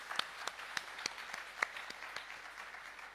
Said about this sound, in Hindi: आप सबके लिए एक बार जोरदार तालियां दोस्तों